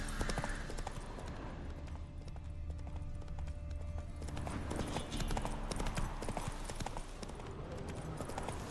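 The horse Roach gallops in The Witcher 3, a steady fast clip-clop of hooves over a dense, loud ambient game soundscape.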